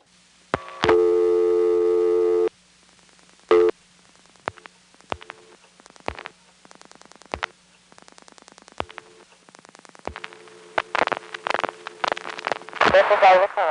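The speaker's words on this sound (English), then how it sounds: "I'm now going to demonstrate ringback, which you get by dialing your own number" A 1974 NX1 crossbar telephone exchange in Greenville, North Carolina gives a steady tone burst, then a string of sharp clicks and brief tones with relay chatter, ending in a cluster of louder clicks and tones.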